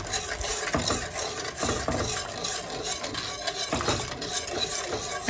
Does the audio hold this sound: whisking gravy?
yes